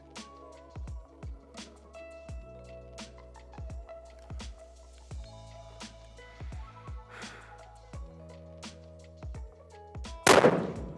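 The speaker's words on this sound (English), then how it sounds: "So I'm gonna shoot this first top left one, 5 shots." A rifle fitted with a muzzle brake fires a series of sharp, loud reports at a precision shooting range, each crack leaving a brief ringing tail, with a final harsh burst of noise at the end.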